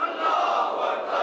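A large crowd at a Shia majlis gathering roars a loud, sustained chant in unison, answering the Nara-e-Takbeer slogan.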